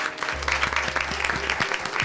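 A town hall meeting audience applauds steadily, a dense crowd clapping over a low steady hum, moderately loud and continuous throughout.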